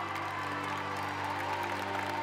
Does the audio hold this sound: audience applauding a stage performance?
yes